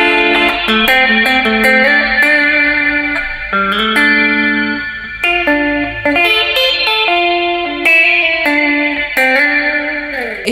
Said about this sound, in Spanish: Este sonido que están escuchando está bastante cargado de reverb